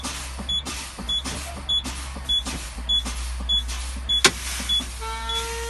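Truck air brake system during a tractor and trailer protection valve test, with repeated short air-release hisses and clicks at a steady rhythm over a constant low engine idle, one sharper burst near the end.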